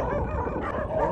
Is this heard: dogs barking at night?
yes